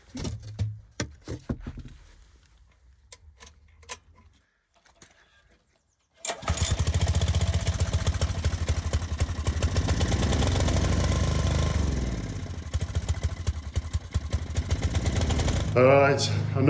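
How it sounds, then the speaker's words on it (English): A planer starts up in a workshop on a rainy day and runs steadily on Douglas fir siding boards, a loud sustained motor whine with a cutting drone that shifts in pitch as boards pass through, after a quieter stretch of scattered knocks and handling noises. "we'll whack the planer on there and get them all done"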